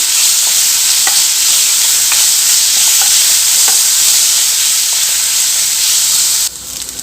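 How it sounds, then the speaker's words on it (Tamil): Onions, ginger-garlic paste and curry leaves sauté in a pan with a loud, continuous sizzle and hiss, a few faint clicks of stirring underneath, the frying noise dropping off sharply right at the end. "கொஞ்சமாக ஃப்ரெஷ்ஷான கருவேப்பிலை. இதை நல்லா வதக்கி கொடுத்துக்கலாம். வெங்காயம் நல்லா வதங்கணும்."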